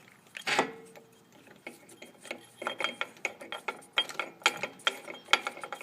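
A brake caliper piston tool is screwed in by hand while changing front disc brakes on a Ford Mustang with dual-piston calipers, giving irregular metallic ratcheting clicks and scrapes, a loud clank early, then quicker rhythmic ticks, close and with no talking.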